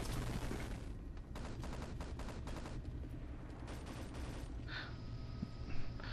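Rapid gunfire from a competitive first-person shooter match, repeated bursts of automatic shots in quick volleys, fairly close and sharp, continuing in clusters with brief pauses between them.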